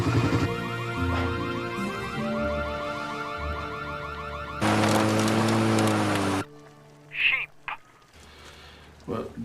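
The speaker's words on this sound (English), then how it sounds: "I think we should turn the alarm off" A loud car alarm cycles through warbling siren tones nearby, then cuts off, leaving brief scattered sounds and a voice.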